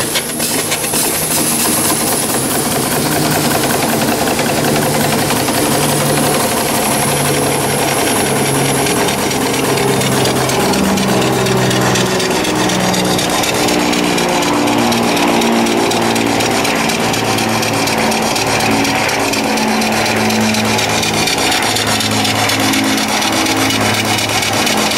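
An Ed Porter steam engine runs steadily after being cranked, giving a loud, continuous rhythmic chuffing and mechanical clatter that settles into an even repeating beat.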